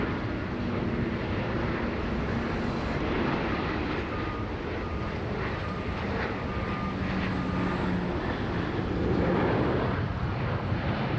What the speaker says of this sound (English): 737 just landing there on 16 right